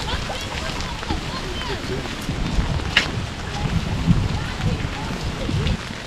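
Steady rain falls during a wet Loch Lomond excursion tour, a constant hiss with wind buffeting the microphone and faint boat or engine rumble beneath.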